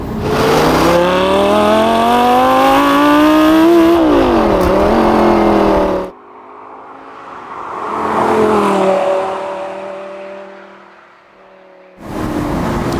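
A Lamborghini Gallardo LP550-2 Balboni's 550-horsepower V10 rises loudly through the revs with rising harmonic pitch, dips and climbs again, then cuts to a quieter, more distant pass of engine and road noise before the loud engine note returns.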